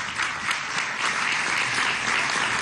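Applause for a student speaker at a school opening ceremony, a dense, steady clapping from many hands that fills the whole moment without pause or voices.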